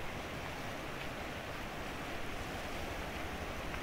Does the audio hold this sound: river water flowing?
yes